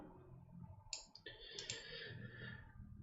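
A computer mouse gives a few quick, light clicks, including a double-click, close by and soft against a faint room hum with no talking.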